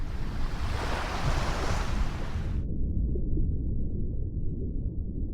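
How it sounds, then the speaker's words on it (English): A loud wave surges and crashes in, a broad roar of rushing water that cuts off sharply partway through and leaves a deep, steady low rumble of churning water. "then the water crashes in over you"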